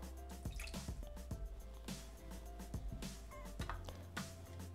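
Water is poured into a Thermomix bowl over yeast, giving faint wet splashes and drips in an uneven run, with a low steady hum beneath.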